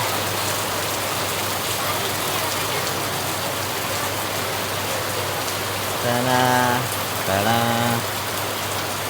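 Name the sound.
heavy rain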